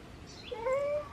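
A single drawn-out cat meow, rising then sliding down, heard alone and fairly close against a quiet background.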